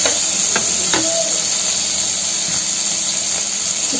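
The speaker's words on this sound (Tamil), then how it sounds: "முடக்கத்தான் கீரையை நம்ம சேர்த்து ஒரு வதக்கு வதக்கிடலாம்" Balloon vine (mudakathan) greens being lightly sautéed in a pan for rasam, giving a steady close hiss of steam and sizzle with a few soft clicks of stirring, no voices.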